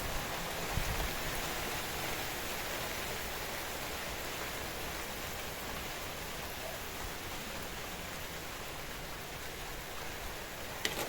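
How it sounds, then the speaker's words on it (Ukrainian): Steady rain pours down without a break, a dense even hiss with no voices, continuous from start to finish. "Ще й дощик пішов."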